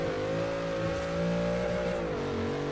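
Crown Victoria police cruiser with a rear-wheel-drive, high-horsepower V8 in Forza Horizon 3, a loud, continuous engine drone holding a steady pitch that sags slightly and rises again, close and alone with no talk.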